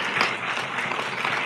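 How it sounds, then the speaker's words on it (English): Continuous applause from a sizable conference audience, a dense even patter of many hands clapping with no pause. "a big round of applause for the signers, Greg and Ruth, please."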